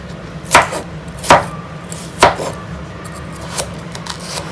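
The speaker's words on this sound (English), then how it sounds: "Cut the vegetables to small cubes like this. It's very easy to cut them." A kitchen knife chops vegetables into small cubes on a board for a chickpea salad, giving three sharp, close chops at an uneven pace, then a few softer taps over quiet room tone.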